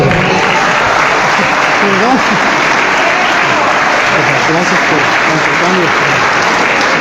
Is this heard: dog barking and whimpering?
no